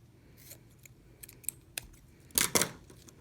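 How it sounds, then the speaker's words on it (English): Two quick, crisp snips of scissors cutting a balloon close up, following a few faint rustles and clicks in a quiet room. "Take your scissors again, be careful."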